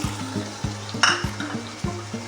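Masala with chana, salt, crushed red chilli, black pepper and whole garam masala frying in a pan for chana pulao, a steady close sizzle with repeated rhythmic scraping and stirring strokes and a brief metallic clink midway.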